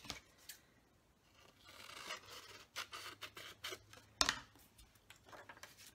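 Scissors snipping through a folded strip of book page while making an envelope, with a series of close, crisp cuts and rustling paper, one sharper snip standing out near the end.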